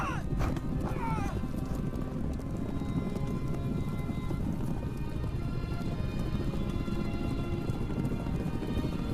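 Horse hooves clip-clop steadily at a race, a rhythmic patter under a continuous broadband rumble with an early brief cry.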